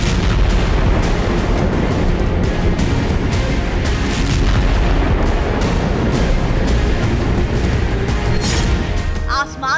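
Heavy explosion blasts from a bombing in the Russia–Ukraine war, a dense, loud roar of booms and rumbling impacts running continuously, with crackling bursts layered on top and a brief drop near the end.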